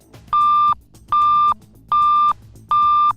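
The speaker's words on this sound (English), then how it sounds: "a pre-alert tone followed by a pre-recorded message will be broadcast over the building's public address system" A loud fire alarm pre-alert tone beeps four times in an even rhythm over a building's public address system, each steady beep lasting under half a second with short gaps between.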